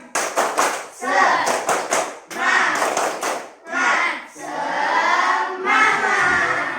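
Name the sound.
group rhythmic "tepuk semangat" clapping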